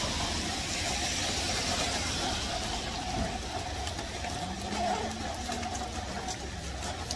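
Street traffic at a bus stop in Korea, a steady low engine rumble with passing vehicles at moderate distance and no one speaking nearby.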